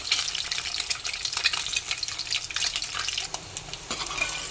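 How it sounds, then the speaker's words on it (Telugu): Eggs frying lightly in oil in a home kitchen pan, a steady soft crackling sizzle with bright spattering pops running throughout at moderate level, no voices. "ఇప్పుడు నేను ఎగ్స్ అయితే ఆయిల్లో వేయించేస్తానండి. లైట్గా ఫ్రై చేసుకుంటాను."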